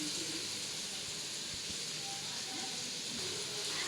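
Mustard seeds spluttering in hot oil in a home kitchen pan, a steady dense crackling hiss with scattered faint pops, continuous and fairly quiet throughout.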